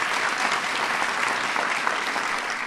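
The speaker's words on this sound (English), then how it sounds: "Please give him a big round of applause." Steady, dense applause from a White House audience welcoming the U.S. Women's National Soccer Team, a sustained wash of many hands clapping at even loudness throughout, with no voices standing out.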